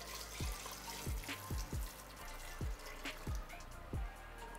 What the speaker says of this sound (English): So let's start adding water.